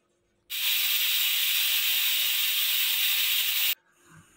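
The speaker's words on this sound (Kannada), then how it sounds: "ಈಗ ಕುಕ್ಕರ್ ಮುಚ್ಚಳನ ಕ್ಲೋಸ್ ಮಾಡಿಬಿಟ್ಟು ಇವಾಗೊಂದು 3 ವಿಷಲ್ ಕೂಗಿಸ್ಕೋತೀನಿ" A pressure cooker of cauliflower and avarekalu sambar gives one loud, steady blast of hissing steam lasting about three seconds, then cuts off abruptly into quiet.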